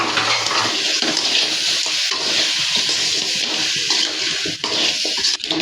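Water poured into a pot of river crab gravy, a loud continuous splashing gush that runs steadily and thins briefly near the end, close and alone.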